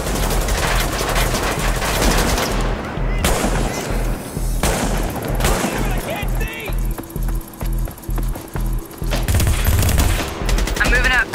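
A shootout in The Division video game, with dense, loud bursts of automatic gunfire and rapid shots nearly continuous throughout, and voices briefly calling out over the firing.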